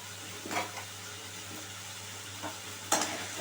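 Chopped red and green bell peppers go into a pan of spiced oil and fry over a lowered gas flame, a soft steady sizzle with a few brief scraping bursts from stirring, fairly quiet and close.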